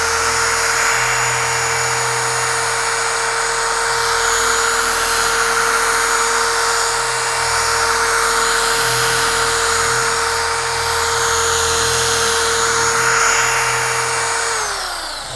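A UDOS 51E dual-action polisher runs at full speed with lubricated polishing compound on the pad, giving a loud, steady, close-up motor whine that holds for about fifteen seconds before easing slightly at the end.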